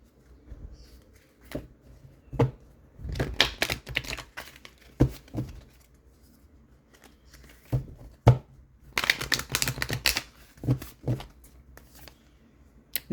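Oracle cards being shuffled by hand, quick papery riffles and taps coming in short irregular bursts separated by quiet pauses, close and soft with no talk.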